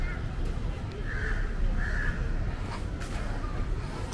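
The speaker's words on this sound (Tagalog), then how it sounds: "Hala, may uwak guys." A crow caws a couple of times at moderate distance on a busy old-town street in Melaka, Malaysia, with crowd noise and steady street ambience around it.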